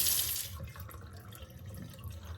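Dried masi fish (Maldive fish) washed under running water: a steady tap stream splashes into a sink close by, with an initial hissy gush settling into softer sloshing.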